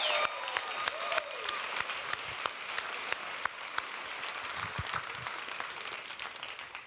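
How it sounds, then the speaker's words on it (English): A seminar audience gives itself a big round of applause, dense steady clapping from a roomful of people lasting several seconds before tapering slightly at the end. "Give yourselves a big round of applause."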